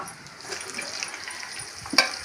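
Onions sautéing golden in a pot over an outdoor stove for country chicken biryani: a soft, steady sizzle with a sharper stirring scrape near the end.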